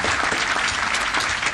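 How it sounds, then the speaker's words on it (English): At a city council meeting, a room of people claps in a brief, steady burst of applause, evenly loud throughout without any talk over it. "we can give her a little applause."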